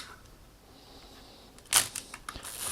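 A Nikon FM film camera fires its mechanical shutter with a crisp, close click, followed by a quick series of lighter ratcheting clicks as the film is wound on, in an otherwise quiet room.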